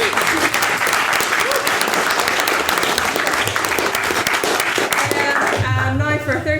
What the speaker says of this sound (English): so we give a round of applause.